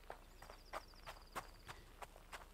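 Footsteps in the survival video game Hold Your Own: a run of about eight light, evenly spaced steps, faint and alone without talk.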